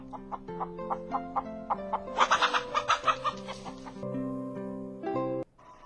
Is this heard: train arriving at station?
no